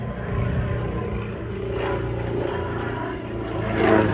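A propeller aerobatic airplane performs at an air show, its engine droning steadily at a distance with a faint rise and fall in pitch and a swell in loudness near the end, with no talk over it.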